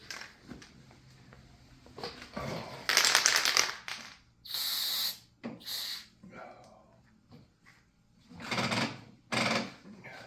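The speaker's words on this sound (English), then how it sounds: "I'm spraying some down the tube." Lubricant sprayed onto the axle and down the tube of an Ariens snowblower during servicing, coming as several close, loud hissing bursts of a second or so each, separated by pauses and light handling noises.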